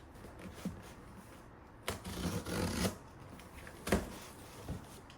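A gift box holding a lamp being opened: soft rustling and crinkling of packaging with a few louder bursts of tearing, close and fairly quiet, with no talk.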